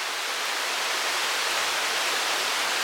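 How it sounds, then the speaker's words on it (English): Heavy rain pouring down outdoors, a dense, steady hiss that stays loud and unbroken throughout with no other sounds. "it's pouring. Always, always pouring."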